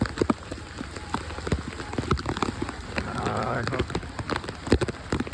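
Steady rain patters and splashes on a nearby surface, with scattered sharper drops and a faint voice now and then underneath.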